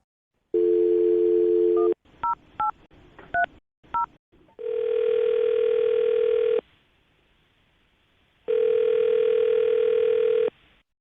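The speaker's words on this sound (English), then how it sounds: "All right, I'm going to dial her phone number." Telephone keypad tones dial a number: a long steady dial tone, a quick run of separate DTMF beeps, then a sustained ringback-style tone that stops, silence, and the tone returns, loud and close with no talk.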